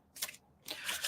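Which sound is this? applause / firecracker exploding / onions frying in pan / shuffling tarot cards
shuffling tarot cards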